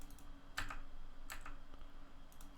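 Keys tapped on a computer keyboard, a few sharp, close clicks in small clusters separated by quiet gaps, over a faint background hum with no talking.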